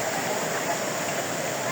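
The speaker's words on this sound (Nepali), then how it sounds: "पानी त ठुलै परिरहेछ" Heavy rain falling on forest in Shivapuri, heard as a steady, dense hiss that holds even for the whole moment without any distinct drops or breaks.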